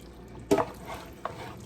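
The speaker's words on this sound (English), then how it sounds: "Kind of get this stirred around." Tomatoes are stirred into lasagna sauce in a pot, giving a brief wet scraping swirl, one louder stir stroke followed by a small clink-like splash, over a quiet background.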